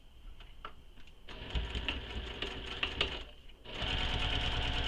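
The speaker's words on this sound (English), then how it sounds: "Now I'm going to stitch this bottom edge of 4C down." A sewing machine stitches the bottom edge of a wallet in short bursts with brief pauses for backstitching, then runs in a steady whirring stretch at the end, close and fairly quiet.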